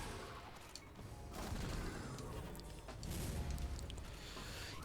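Grenade launcher fire in Destiny 2, heavy blasts and bursts of explosive impacts rolling across several seconds, fairly dense and moderately loud, swelling in two waves amid game noise.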